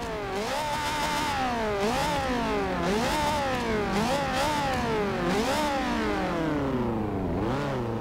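A Ferrari engine in Forza Horizon 2 revs up and down repeatedly in rising and falling sweeps, a loud, steady motor sound with no talking.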